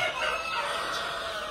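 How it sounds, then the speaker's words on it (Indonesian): Village chickens in a tiered breeding coop cluck and crow steadily at moderate volume, several birds calling over one another in a dense, continuous chorus. "Ini ayam kita."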